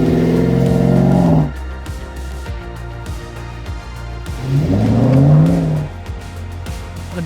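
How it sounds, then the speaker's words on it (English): A Chevrolet LT1 V8 in a 1999 Land Rover Defender 110 revs hard twice, loud rising roars separated by a lumpy, burbling idle, close by and with no talk. "455 horsepower Chevrolet LT1, paired with a 10-speed automatic transmission"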